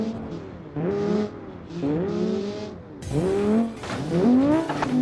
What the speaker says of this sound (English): Listen to that engine go.